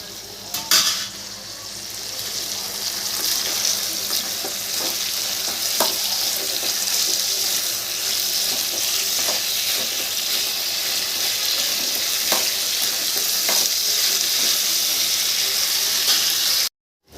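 Steady, loud sizzle of ingredients sautéing in a pan for a ground-masala fish curry, with occasional clinks of a spoon stirring against the pan throughout.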